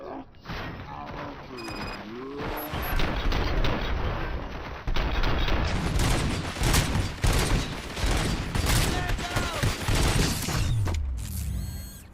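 Rapid gunfire in the RoboCop: Rogue City video game crackles as bursts and sustained volleys, layered with mechanical clanks and creaks amid dense game effects, growing louder partway through.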